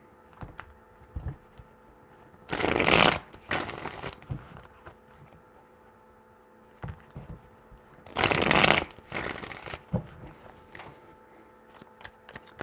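Tarot cards are shuffled in two separate bursts, each a quick riffling flutter lasting about two seconds, close and crisp against a quiet room, with a few soft handling clicks between.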